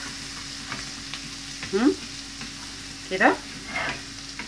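Garlic fries in oil in a pan over low heat with a soft steady sizzle, broken by a few louder scraping strokes as a spoon stirs it, and someone says a word during it.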